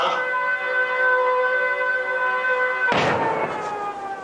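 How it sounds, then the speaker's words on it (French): Evacuation siren at an explosives launch site, a loud steady multi-tone wail held for several seconds, then a sudden broadband burst that rumbles and fades beneath it. "Les sirènes font évacuer le site"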